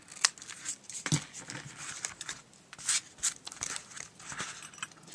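Scissors trimming excess paper off a handmade mini album, a series of close, crisp snips and cuts with some paper crinkling and handling noise between them, with no one talking.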